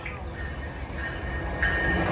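A train running through Princeton Junction station, a steady close rumble with a brighter screech of wheels or brakes swelling near the end, no voices over it.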